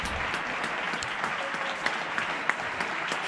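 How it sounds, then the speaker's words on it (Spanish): Neighbours applaud healthcare workers from their homes during a lockdown, a faint, distant patter of many hands with a few sharper nearby claps standing out near the end. "decimoquinto aplauso sanitario y endurecimiento del confinamiento"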